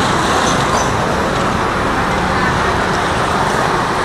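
Road traffic passing beside a parked second-hand traveller bus, a loud, steady broadband roar of vehicles with no breaks.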